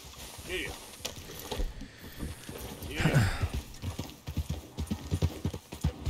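Horse hooves clop in a quick, uneven rhythm in Red Dead Redemption 2, close and prominent, with a brief whinny-like burst midway and a voice speaking in between.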